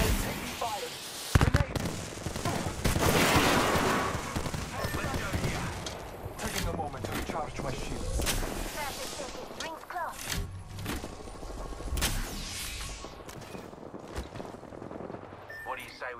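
Gunfire in a shooter video game, rapid bursts of shots and impacts striking the player, loud and dense at first, then continuing in scattered cracks and volleys.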